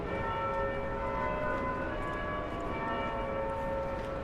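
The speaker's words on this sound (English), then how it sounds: "Hear the bells at Martin Place." Church bells at Martin Place, Sydney, ringing with sustained, overlapping tones hanging over a constant hum of city traffic, heard from some distance.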